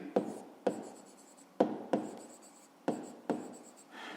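A pen writes by hand on paper during a fifth-grade maths exercise. Six distinct scratchy strokes sound close up, each starting sharply and fading, spaced irregularly with short pauses.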